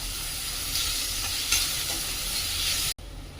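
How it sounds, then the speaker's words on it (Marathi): Chopped onion sautés in oil with a spoonful of salt, a loud, steady sizzle and hiss with light stirring scrapes, running continuously before a sudden cut near the end. "एक चमचा मीठ टाकून घेत आहे त्यामुळे कांदा चांगला परतला जातो"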